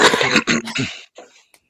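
A short burst of coughing and throat-clearing, close and fairly loud, with a few rough hacks that trail off into quieter breaths.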